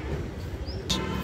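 A pigeon perched on a rooftop gives short, faint calls over a low, steady background rumble, with a brief sharper burst near the end.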